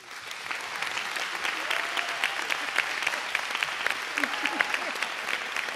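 Audience applause at a conference session, steady dense clapping from a crowd sustained throughout at moderate loudness, with a few faint voices underneath.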